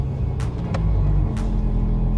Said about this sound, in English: So as you can hear, the car is nice and quiet with the valves closed.